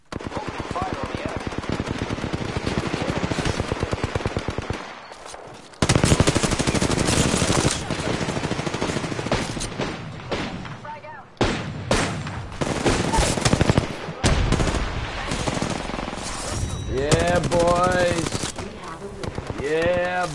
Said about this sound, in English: Open fire on the enemy.